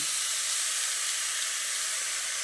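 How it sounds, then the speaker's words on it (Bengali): Grated beetroot hitting hot oil with frying onions and green chillies, a dense, continuous, close sizzle that holds steady throughout. "যে বিটটা গ্রেট করে রেখেছিলাম সেই বিটটা এর মধ্যে এখন দিয়ে দিচ্ছি"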